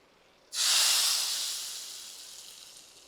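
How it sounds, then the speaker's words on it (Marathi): Hot ghee tempering with dried red chillies and bedgi chilli powder poured onto simmering dal with bottle gourd gives a sudden loud hiss that bursts in after a quiet moment, then slowly fades as the sizzle settles. "आता हा तडका या उकळत्या भाजीवर होतो"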